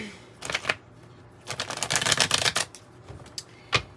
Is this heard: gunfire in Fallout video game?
no